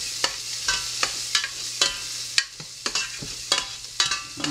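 Onion frying in a pan is stirred with a spatula, giving regular sharp scraping strokes about every half second over a soft background sizzle.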